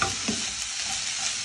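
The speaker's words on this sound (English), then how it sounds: "Just toss them around in the pan." Mixed vegetables being tossed in a hot pan give off a dense, continuous sizzle, loud and close, with no voices over the brief stretch.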